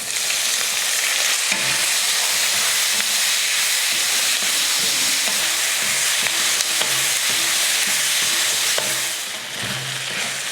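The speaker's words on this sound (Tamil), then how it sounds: "தக்காளி பாருங்கள் சூப்பராக வதங்கிடுச்சு." Tomatoes and onion with curry leaves sautéing in a pan for a Tamil side dish, a loud, steady sizzling hiss throughout with occasional stirring scrapes and no voices.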